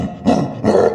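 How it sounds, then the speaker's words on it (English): A gorilla roars in two loud, rough bursts with a short gap between them, heard up close and alone. "Gorilla."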